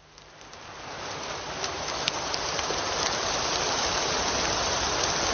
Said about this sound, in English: This tropical rain, it comes down so suddenly